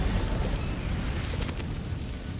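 A fiery burst from the Incendio spell in Hogwarts Legacy, a dense rushing crackle and roar of flame lasting a couple of seconds, loud and close with no talk over it.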